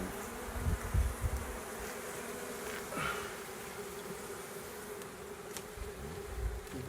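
A dense buzzing of many bees from a shaken package of bees, steady and close, with a few soft thumps and rustles underneath.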